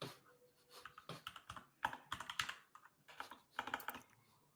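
Fingers type on a computer keyboard in quick irregular bursts of close, crisp key clicks, with short pauses between runs and no talking over them.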